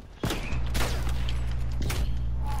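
A frag grenade goes off in a sniper-match video game, a sharp loud blast followed by a couple more cracking impacts over a low steady hum.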